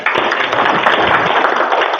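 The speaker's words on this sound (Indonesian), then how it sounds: "Tepuk tangan, tepuk tangan." Dense clapping from a small group fills two seconds at steady, close, loud level, likely at an informal content-creator shoot right after a performance.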